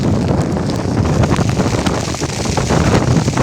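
Strong storm wind in Bosnia roars steadily across the microphone, a loud, constant broadband rush with heavy low buffeting and no pauses.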